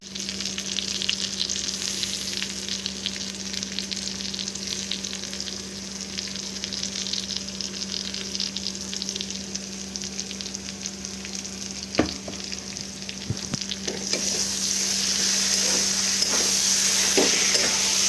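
Steady sizzling of potatoes frying in a pan, with occasional scraping and stirring sounds throughout; no voices.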